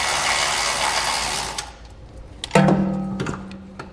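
A ratchet tool working on two bolts holding a module on the passenger side during a 2022 rear air helper spring installation: a steady whirring rush, then a brief pause and loud clicking ratchet bursts close by.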